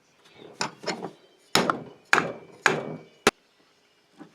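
Sharp knocks and cracks come from prying and breaking the cap off a Poulan chainsaw carburetor, a handful of separate close impacts spaced unevenly with quiet gaps between them.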